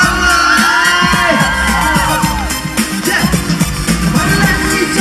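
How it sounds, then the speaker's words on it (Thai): A concert crowd at the Thailand Industry Expo 2015 in Impact Challenger Hall claps, whoops and yells loudly and continuously, with shouted cheers over dense applause and music. "ปรบมือให้ตัวเองนั้นดังเลย"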